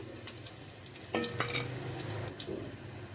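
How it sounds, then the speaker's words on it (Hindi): Onions and vegetables fry in hot oil, giving a faint, steady sizzle with a few brief stirring clinks and scrapes. Nobody speaks. "तकरीबन 1 से 2 मिनट के लिए इनको फ्राई करेंगे हम।"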